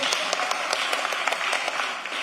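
An audience at a commission meeting claps steadily, a brief burst of many hands with sharp, irregular claps close by, fairly soft and alone without talk.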